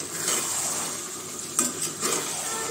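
Meat fries and sizzles in a pan while being stirred steadily, with occasional louder scraping strokes, close up and without talk.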